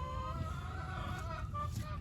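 Chickens clucking on a homestead during a bird swap, a steady low flock chatter with occasional louder calls, continuous and fairly close, under soft background voices.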